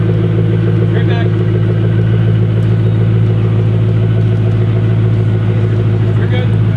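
A 2005 Ford GT rumbles steadily as it drives, a loud low engine drone with a constant tone, heard up close and continuous throughout.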